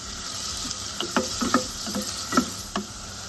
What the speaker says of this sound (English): Fry the onion for around 5 minutes or at least until soft